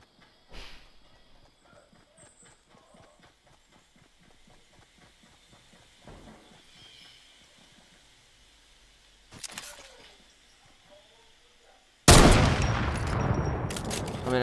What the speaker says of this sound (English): I shouldn't be shooting up these trees and that, because this is really good cover for me